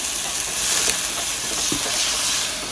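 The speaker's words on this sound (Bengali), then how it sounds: "সামান্য একটু জল দিয়ে মশলাটা কষানো হচ্ছে" Spice masala with turmeric frying in a pan with a little water, giving a continuous close sizzle and hiss with faint stirring, steady and even throughout.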